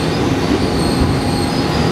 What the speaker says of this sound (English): finally we are entering Cuttack railway station